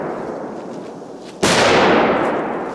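A powerful firecracker bought at a Polish market goes off with one sudden loud blast that cuts through outdoor background noise, then leaves a long, slowly fading roar and rumble.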